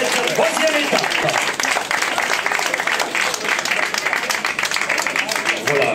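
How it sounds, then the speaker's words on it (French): Crowd applause greets the stage winner at a cycling race, the third stage of the Saint-Brieuc Agglo Tour, with steady dense clapping throughout and a voice talking over it at the start. "On verra, on va l'applaudir."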